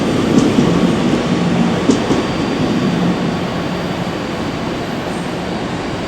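A train rolls into a station platform with a steady loud rumble of wheels on track, a few faint squeals and clicks near the start, settling as it slows, with no voices.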